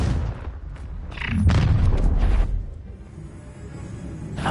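A Confringo fire-blast spell in Hogwarts Legacy bursts as a loud booming explosion with a rushing roar that swells and then fades, followed by a smaller crack at the end.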